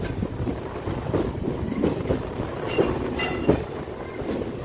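A local train rumbles and clatters through Howrah station in the late afternoon, a loud continuous roll of wheels on track with periodic clacks and faint squeals.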